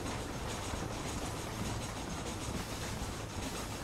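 A train rolling on rails in the Red Dead Redemption video game, a continuous loud rumble with faint rhythmic clatter of wheels, heard alone without talk.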